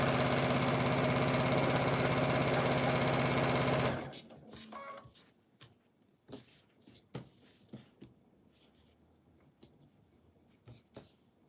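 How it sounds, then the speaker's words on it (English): Sewing machine stitching quilt fabric scraps together for a baby quilt, a loud steady mechanical whir for about four seconds, then it stops, leaving quiet room noise with scattered soft clicks and handling sounds. "we're just sewing up all the scraps"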